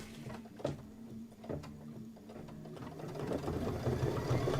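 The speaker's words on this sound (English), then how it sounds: "I'm just going to hold it and stitch." A sewing machine stitches a table topper, its motor and needle running in a steady, close mechanical whir with faint clicks. It grows slightly louder and busier toward the end, with no talk.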